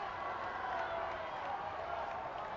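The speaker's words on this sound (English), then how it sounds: "Great reaction from the crowd now as we sit tied up" A crowd at a high school volleyball game between Scotus and Lakeview cheers after a point ties the score, giving a steady, dense roar that holds at an even level throughout.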